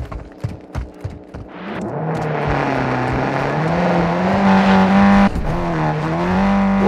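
A Volvo speeds along in Call of Duty: Modern Warfare II. Its engine gives a steady, loud drone that builds and climbs in pitch, after a few short clicks and knocks at the start.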